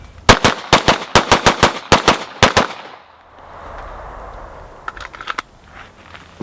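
A handgun fires a fast string of about fifteen sharp, loud shots in quick bursts during a speed drill at a range, then a quieter stretch follows with faint clicks and rustling.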